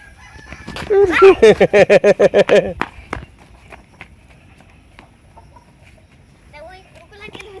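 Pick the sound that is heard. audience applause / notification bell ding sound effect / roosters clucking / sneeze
roosters clucking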